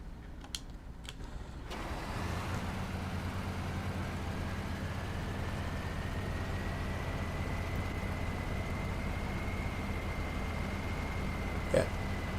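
A truck engine in the SnowRunner video game drones steadily at low pitch once it starts, with a faint rising whine above it and a brief click near the end.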